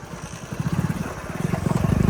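A motorcycle engine chugs with a pulsing, rough rhythm as it rides over a makeshift dirt track, growing slightly louder and faster toward the end.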